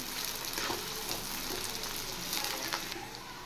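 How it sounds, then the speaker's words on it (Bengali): Chopped onions hit hot oil and fry, a close, continuous hissing sizzle with small crackling bursts throughout. "তেল গরম হয়ে গেছে, এবার আমি দিয়ে দিচ্ছি কুচিয়ে রাখা পেঁয়াজ। পেঁয়াজগুলো একটু ফ্রাই করে নেব।"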